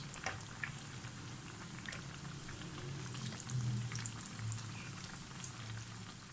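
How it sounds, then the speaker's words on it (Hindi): Bread pakora deep frying in hot oil until golden brown makes a steady bubbling sizzle with scattered crackling pops, close and fairly soft throughout. "अब इसी तरह से हम इसको गोल्डन ब्राउन कलर आने तक फ्राई कर लेंगे"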